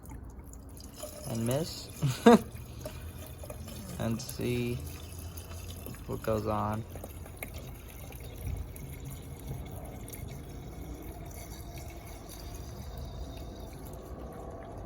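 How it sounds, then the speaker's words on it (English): Water pours into the coolant reservoir of a Mazdaspeed 3, soft trickling and splashing in a few short bursts near the start, then faint dripping, with someone talking over parts of it. "So I'm just gonna fill it up with water"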